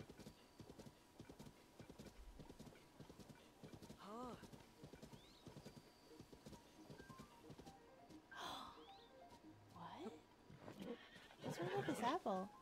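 A horse in Zelda: Tears of the Kingdom trots with rhythmic clip-clopping hooves, then lets out several whinnies and snorts that grow louder near the end.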